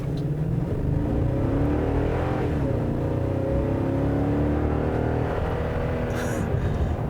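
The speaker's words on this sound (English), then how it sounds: "So immediately I'm noticing that burly V8." A 2018 Toyota Tundra 1794 Edition pickup's V8 engine revs and accelerates steadily, its drone rising in pitch, heard from inside the vehicle with continuous road noise.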